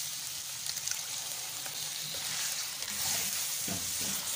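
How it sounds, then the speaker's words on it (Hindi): Chicken fries in a pot with white pepper and salt, producing a continuous soft sizzle and gentle stirring scrapes, moderately quiet and steady, with occasional light spits. "अच्छी तरह से इसको हिलाएंगे"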